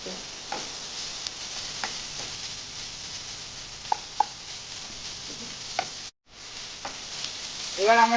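Capsicum and chopped onion fry lightly in a pan, giving a steady soft sizzle with scattered crackles and spoon taps, a brief dropout near the end, then brighter spitting as the sizzle picks up.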